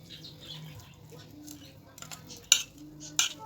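Cooked ground meat turned with a utensil in a pan for a zucchini béchamel bake: soft scraping, then two sharp metallic clinks against the pan near the end, with a faint voice in the background.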